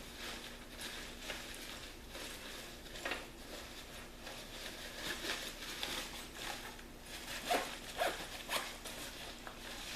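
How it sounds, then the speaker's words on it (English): A zipper being pulled closed on a small TOTALPAC folding backpack, a series of soft raspy zipping strokes and rustles, quiet and close. "Zip this back up."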